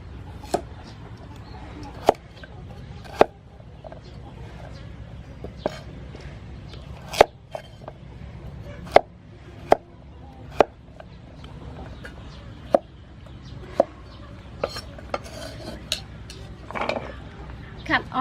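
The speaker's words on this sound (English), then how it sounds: "now I start to cut carrot" Knife chopping carrot on a cutting board while preparing mussel curry, sharp irregular knocks spaced a second or so apart, close and clear over a low background hum with faint talk.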